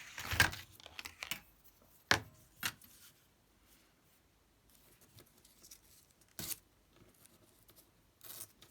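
Paper torn by hand for a small journaling card, a few short quiet rips and rustles with pauses between them, close up and without talk.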